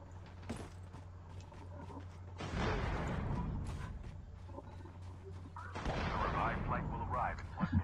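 A tank firing in a Call of Duty Mobile battle royale match: two heavy, booming blasts with long rumbling tails stand out from quieter background noise.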